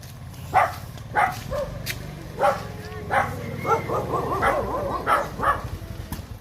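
Several sharp dog barks ring out at irregular intervals in a village in a Philippine province, fairly close, followed by softer yips and whimpers near the end.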